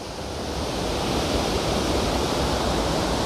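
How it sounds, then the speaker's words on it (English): A waterfall seen on a hike pours as a loud, steady broadband rush of falling water, close and unbroken, with no voices over it. "You could get underneath the waterfall."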